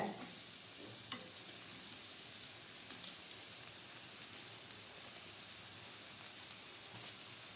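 Steady faint sizzle of a corn mixture frying in a pan, with occasional soft scrapes and clicks as cooked basmati rice is stirred in.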